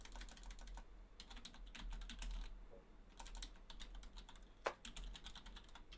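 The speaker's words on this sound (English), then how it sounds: "mute yourself if you're typing" Rapid keyboard typing at a computer, a dense run of soft clicking keystrokes with a brief pause and one sharper louder clack near the end, faint and steady with no talk.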